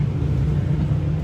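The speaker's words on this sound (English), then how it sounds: "must be really hard to get that little car around the corner" Small car's engine rumbling low and steady as it takes a corner on a road near Hobart, Tasmania, close by with no speech.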